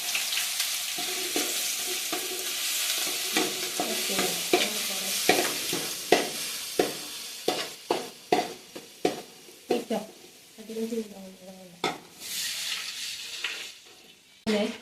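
Food sizzles in a pan on a home stove as a utensil stirs it, giving repeated close scraping and clinking strokes over a steady frying hiss.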